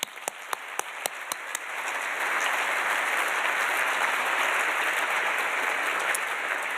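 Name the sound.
audience applause at award ceremony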